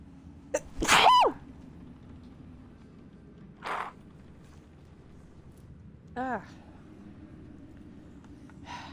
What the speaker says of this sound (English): Inopportune sneeze.